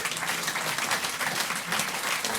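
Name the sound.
round of applause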